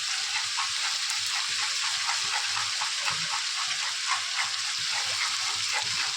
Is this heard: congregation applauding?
no